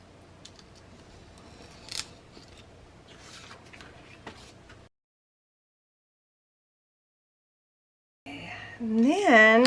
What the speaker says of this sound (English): before I cut it apart again, let me get these edges just in case I cut some paper off